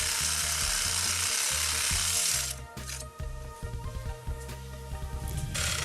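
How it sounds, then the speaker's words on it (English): Reciprocating body saw cutting through the lower rocker channel of a 2017-2018 Ford Super Duty during an open fender install, a loud buzzing rasp with steady strokes, then choppier and intermittent cutting toward the end. "Begin your first cut by using the body saw to cut the lower rocker channel."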